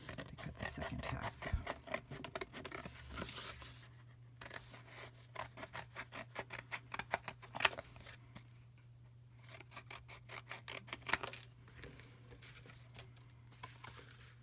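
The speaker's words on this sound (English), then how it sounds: "Okay, so I'll cut that out and then I'll hold it against my other piece of cardboard to cut the second half." Scissors snip through cardboard in quick, repeated rhythmic cuts, close and fairly quiet, with short pauses between bursts of snipping.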